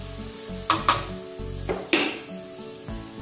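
Biryani masala tempering for a matka veg biryani is sautéed in a pan: a few sharp spoon clinks and scrapes against the metal over a faint, low sizzle, close and brief.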